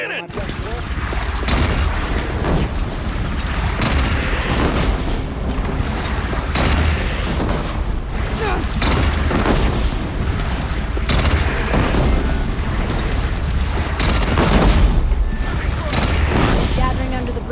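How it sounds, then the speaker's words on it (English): Repeated cannon blasts and explosions in a Horizon Zero Dawn Remastered battle, loud booming volleys at irregular intervals over constant combat noise, with a character shouting at times. "They only have one cannon!"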